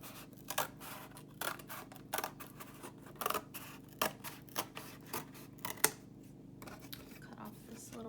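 Scissors cut a flap off a piece of cardboard in a string of crisp, separate snips spaced about a second apart, close and quiet, with faint talk in the background.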